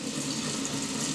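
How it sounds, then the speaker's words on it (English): Tap water streams steadily into a sink as makeup brushes are rinsed out, a close, continuous and fairly loud gushing wash with no talking. "you're just going to rinse it out and squeeze out the excess water"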